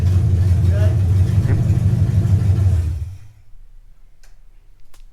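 A third-generation Chevrolet Camaro Z28 street/strip build idles with a deep, loud rumble that drops off abruptly after about three seconds, leaving faint ticks and low background noise.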